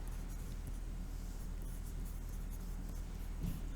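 Pen or marker scratching out math steps on paper or a board, a faint, continuous scribbling with small pauses and strokes, close up, with no voice over it.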